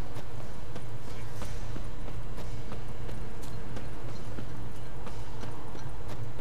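The horse Roach in The Witcher 3 gallops without a break, hooves drumming in a quick, steady rhythm close by over a continuous outdoor background.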